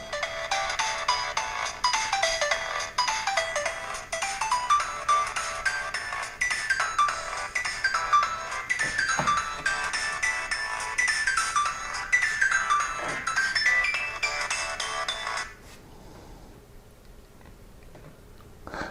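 Music plays from a smartphone's small built-in speaker, thin and bright with a steady beat and melody, running continuously for about fifteen seconds before cutting off abruptly into near silence.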